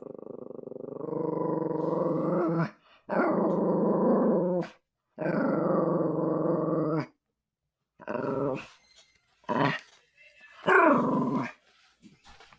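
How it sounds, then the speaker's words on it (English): A dog growls in several long, rough bursts, then gives a few shorter barks and snarls with silent gaps between them. It sounds close and fairly loud, with no talking over it. "I don't know why you barking."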